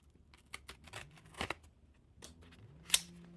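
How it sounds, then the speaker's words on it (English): A small card opener cutting the seal on a Theory11 Pink Beatles playing card box: faint close snips and paper crinkles, ending in one sharper cut. "Now I'll press down the seal, grab our hand dandy card opener."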